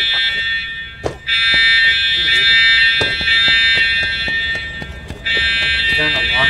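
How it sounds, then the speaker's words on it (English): A loud, shrill fire alarm blares in a multiplayer shooter game, steady and insistent with brief breaks, while sharp clicks and clatter of gameplay and players talking sound underneath. "Is there an alarm going off?"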